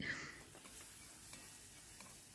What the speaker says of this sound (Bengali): এদিক দিয়ে একটু ছোলা ভাজিটা করে নিচ্ছি